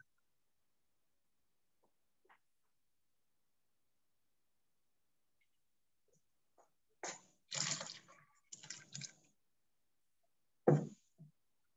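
Hot water is poured over boiled silk cocoons, making a few short splashing gushes that are moderately close, with near silence before and between them.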